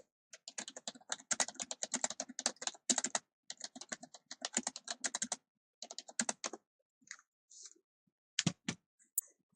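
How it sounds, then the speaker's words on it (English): Fast bursts of typing on a computer keyboard, close and crisp, with short pauses between runs of keystrokes and a few isolated clicks near the end. "So I'm just going to type this in."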